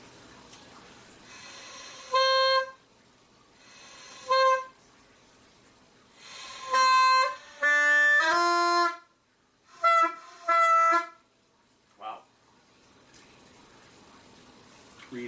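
A reed wind instrument honks out short, separate notes in bursts with pauses between. Some phrases climb into a higher, squeakier register, played alone in a quiet room.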